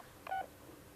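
A telephone keypad emits a single short, clear dialing beep against a quiet room background, lasting only a fraction of a second.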